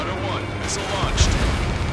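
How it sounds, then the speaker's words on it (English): A missile explosion in the Ace Combat 7 air-combat video game, a couple of short, dull booming bursts over a dense, steady wash of game noise. "Strider 1, missile launched."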